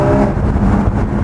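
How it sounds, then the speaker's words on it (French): A Porsche GT4 engine revs loud and close on an alpine mountain pass road, a steady, full-bodied growl with a shifting pitch through a short burst. "vous avez le bruit du GT4 qui est juste incroyable. Le moteur, il est exceptionnel."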